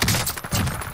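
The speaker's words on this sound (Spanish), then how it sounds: "¿Te estás disparando a mí?" Rapid gunfire in the video game Call of Duty Warzone, a dense burst of close shots in quick succession, a brief gap, then another volley.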